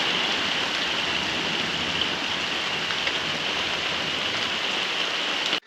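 Steady rain pouring down in the early morning, the first downpour of the rainy season in Tanzania, a dense even hiss of drops on surfaces that continues unbroken and fairly loud until it cuts off at the end.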